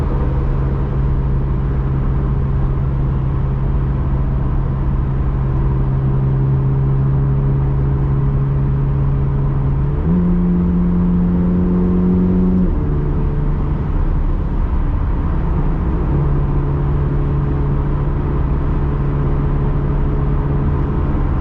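A 2023 Chevrolet Corvette Z06 3LZ heard from inside while driving, its engine a steady droning tone that shifts pitch as revs rise and fall, fairly loud and continuous with no talking.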